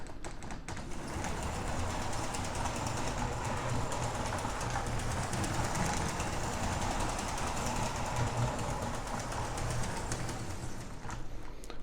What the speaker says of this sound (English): if you turn the speed throttle, the train will run